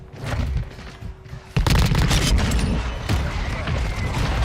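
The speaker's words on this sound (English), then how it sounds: "Pistol headshot, let's go." Pistol shots in Call of Duty during a league match ring out as a sharp broadband crack at about 1.5 seconds, followed by sustained loud gunfire and game noise.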